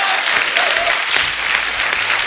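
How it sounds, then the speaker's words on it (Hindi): Dense, loud studio audience applause on the Kapil Sharma Show, an even burst of many hands clapping throughout the short moment. "इसके लिए तालियां बनती पहले तो"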